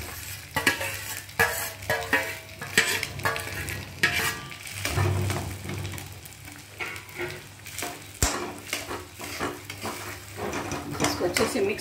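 Grated potatoes frying in a ladleful of oil in a pan over medium heat, stirred continuously for potato halwa: close sizzling with repeated spoon scrapes and clinks against the pan.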